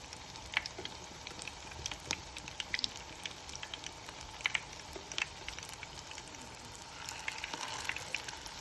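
Potato patties (aloo tikki) fry in hot oil, a low steady sizzle scattered with small crackles and pops, quiet and close, with no one speaking.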